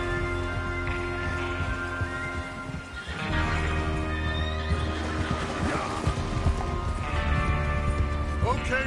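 Horses in Red Dead Redemption 2 neigh and whinny several times in rising, wavering calls over a steady bed of game music and ambience.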